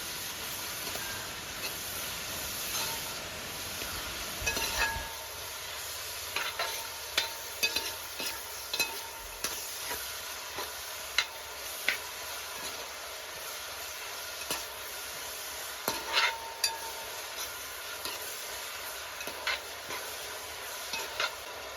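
Sliced onions sauté in a pan for a chicken curry with turmeric, a continuous soft sizzle broken by regular scraping and tapping of a spoon as they are stirred toward brown.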